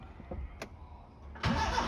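A used car's engine cranks briefly and then catches, settling into a steady close running rumble.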